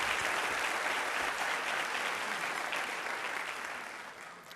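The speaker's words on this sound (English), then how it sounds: "Give our breakout sessions leaders a round of applause" Audience at an educator symposium keynote applauds steadily for breakout session leaders, a dense wash of clapping that slowly fades toward the end.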